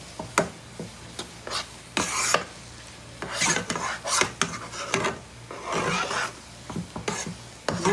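Ingredients are roasted and stirred in a pan for a winter egg-and-milk gram-flour recipe, giving steady scraping and rasping strokes with a soft sizzle, repeated rhythmically and close by with no talk.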